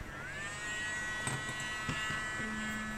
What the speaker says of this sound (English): so I've got out my Dremel.